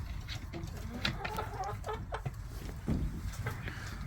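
Hens perched in a freshly cleaned backyard coop, one large bird stepping down, give off scattered low clucks and murmurs against steady rustling, with a few sharper calls standing out.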